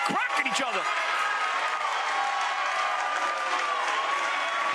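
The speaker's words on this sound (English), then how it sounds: "Standing ovation by the crowd here." Crowd at a ProBox TV boxing match rises in a standing ovation, with sustained applause and cheering that fills the arena at a steady, loud level, mixed with voices.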